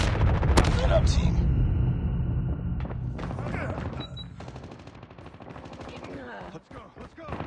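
Submachine gunfire from a QQ9 in a first-person shooter video game, loud rapid bursts with shouted callouts from players over the shooting.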